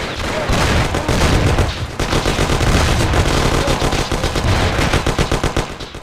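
Sustained gunfire in the game Mafia: The City of Lost Heaven, rapid overlapping bursts of automatic weapons, loud and dense throughout, with a rattling rhythmic stutter toward the end.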